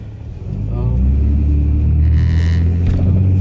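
A 2003 Nissan Maxima on a late-night drive, heard from inside as a loud, steady low engine rumble that swells as the car gets going, with a brief voice near the start.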